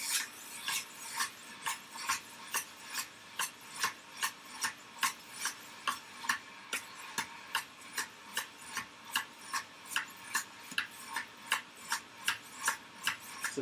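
A stainless steel knife is sharpened on a 600 grit stone with steady back-and-forth strokes. Roughly two scrapes per second repeat evenly for the whole stretch, close and clear, with no talking.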